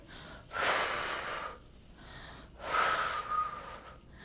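Two strong breaths during a standing home workout, each a rushing exhale of about a second, the second held longer with a faint whistle, separated by softer breathing.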